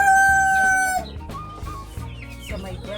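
A rooster crows loudly and close among chickens in a backyard planted with a Jamaican cherry (aratilis) tree, a long harmonic call held for about a second, then clucks and other fowl sounds.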